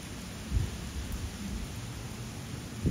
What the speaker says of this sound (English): there's actually winds driven rain out here